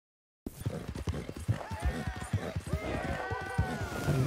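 Horse hooves clip-clop at a steady walking rhythm in the Red Dead Redemption 2 video game, close and distinct, with a few tonal game sounds layered over the later part.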